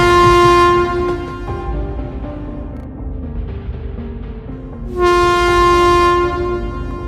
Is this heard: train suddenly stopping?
yes